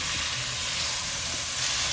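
Tri-tip beef sears in a hot pan, giving a continuous, even sizzling hiss, close and unbroken for a couple of seconds.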